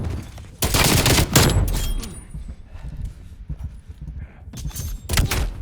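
An LMG fires from the hip in Call of Duty Black Ops Cold War multiplayer, with loud rapid bursts near the start and again near the end and quieter game sounds in between.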